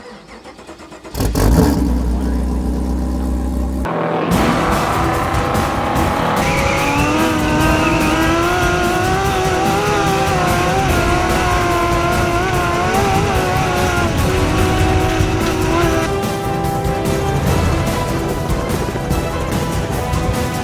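An off-road race truck at the Mint 400 desert race roars to life and holds a loud, sustained engine drone with rising and shifting revs, close up and continuous with no talking.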